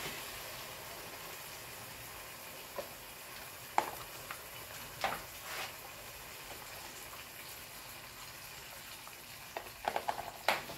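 Coconut milk cooking with tilapia and turmeric in a pan, a steady quiet bubbling sizzle with occasional utensil clinks and scrapes, several in a quick cluster near the end, no voices.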